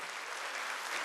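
A church congregation at a Wednesday worship service breaks into applause, a dense, even wash of many hands clapping for a brief moment, fairly loud and with no voices over it.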